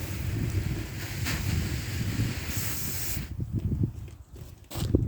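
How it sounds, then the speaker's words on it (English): Cold water running from an outdoor tap as hands are rinsed beside a raised garden bed made from an old chest freezer, a steady splashing hiss for about three seconds that then drops to quieter, broken trickling with a brief final burst. "Let me wash my hands off here."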